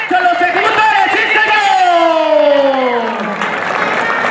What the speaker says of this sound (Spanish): Que se oiga, fuerte el aplauso